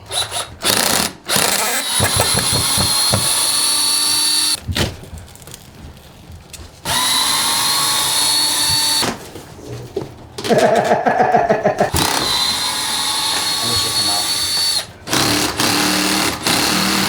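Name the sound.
power drill removing screws from wood pieces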